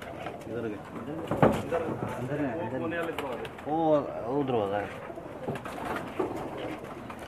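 Pakistani pigeons on a rooftop give repeated soft, throaty coos in rolling phrases, close and fairly clear over constant outdoor background noise.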